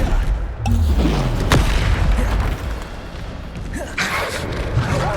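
Spell blasts explode in rapid succession during Hogwarts Legacy combat on Xbox, heavy booms and thuds landing one after another with crackling bursts, loud and close, with a voice shouting spell names.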